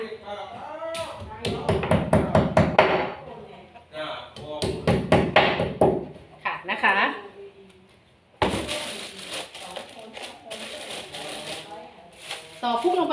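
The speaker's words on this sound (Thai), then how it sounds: "ตอกพุกลงไปเลยค่ะทุกคนนะคะ" Wall anchor plugs hammered into a concrete wall while mounting a water filter, rapid sharp repeated strikes in several close bursts, loud and near, with someone talking between them.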